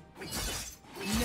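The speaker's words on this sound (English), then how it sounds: "Blue team's turret has been destroyed." A turret being destroyed in League of Legends, a short, loud shattering crash with a bright breaking burst and a swelling rumble.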